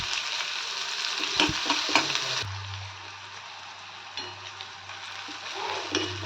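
Onions frying in oil in a pan, a steady close sizzle with a few scraping stirs early on, then a quieter continuous crackle under a low background hum.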